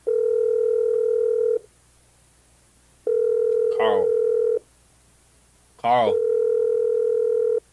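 A telephone in a FNAF VHS tape horror game rings with a steady electronic tone in three long bursts separated by pauses, while brief vocal sounds cut in over the later rings.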